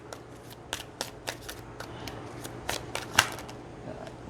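Tarot cards being shuffled in a steady run of soft riffling bursts, close and quiet, with a low steady hum underneath and no voices.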